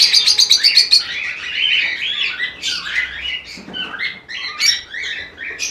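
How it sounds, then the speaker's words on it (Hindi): Lutino, albino and blue personata lovebird breeding pairs chirp loudly and close by, with rapid repeated tweets at the start followed by overlapping squeaky calls and chatter. "ये लबर्ड का पेड़ है"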